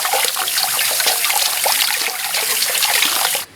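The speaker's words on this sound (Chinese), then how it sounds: "香菜给洗一下，还葱给洗一下。" Running tap water splashes steadily over coriander and scallions being rinsed by hand, a close, bright rush that stops abruptly at the end.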